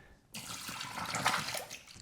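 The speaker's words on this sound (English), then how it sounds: "right now it's running water through the filter to clean out the impurities that are in the new filter we purchased" Water from a GE refrigerator dispenser runs through a newly installed filter, starting abruptly after a quiet moment and continuing as a steady splashing stream into a glass, with no talk over it.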